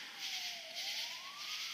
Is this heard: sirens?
yes